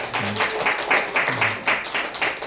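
A church congregation claps in a short burst, with loose rhythmic claps close and fairly loud, while a voice speaks briefly underneath.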